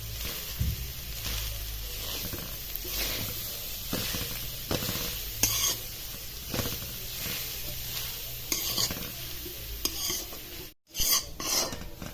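Coconut pieces roast in ghee while being stirred, giving a continuous close sizzle overlaid with repeated scraping strokes of the spoon against the pan, and one brief dropout near the end.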